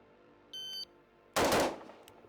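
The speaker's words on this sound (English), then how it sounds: "Now I'm going to fire 2 rounds from the low ready" Two rifle shots fired in quick succession from the low ready position at a shooting range, a sharp loud crack followed by its echo, preceded by a short electronic shot-timer beep.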